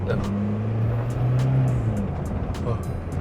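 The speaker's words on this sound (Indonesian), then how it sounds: "Mesinnya itu meraung gitu loh, dia kalau diinjek tuh masih mau meraung gitu" A 2001 Hyundai Atoz with a 1.0-litre engine roars steadily under acceleration, a loud continuous drone that swells slightly in the middle and stays close throughout.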